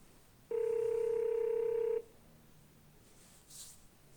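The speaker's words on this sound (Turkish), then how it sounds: "bu arada da bir telefon geldi. Telefon sesini de duydunuz arkadaşlar" A single steady electronic telephone tone sounds for about a second and a half, clear and close, followed by quiet.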